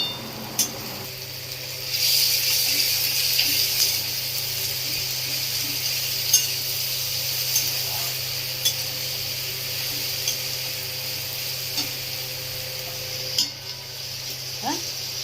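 Chopped tomato, onion and ginger-garlic paste sizzle steadily in a pan, a continuous close fry broken by occasional clinks and scrapes of a stirring spoon, with no talking.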